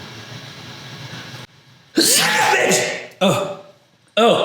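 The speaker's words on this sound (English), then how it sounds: "I was gonna sneeze. Still gonna sneeze." A man in a woodworking shop lets out a sudden sneeze, a sharp burst followed by two shorter bursts and a brief drop to near silence between them, close to the microphone with no speech.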